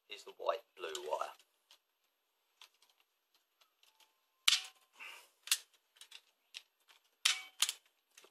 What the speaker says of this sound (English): using a suitable punch down tool, connect into position